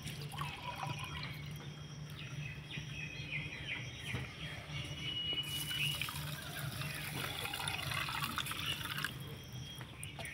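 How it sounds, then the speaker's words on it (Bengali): Warm milk, about one cup, poured into a measuring cup in a home kitchen: a steady liquid splash that swells into a fuller, brighter pour midway, with a faint background hum and no voices. "1 কাপ দুধ মেপে নেব আমি।"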